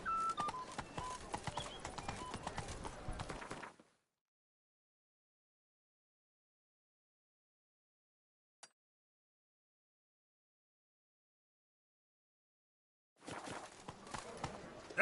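Horse hooves clip-clop in a video game as the horse Roach is ridden, a brisk steady trot heard in two bursts separated by a long silence.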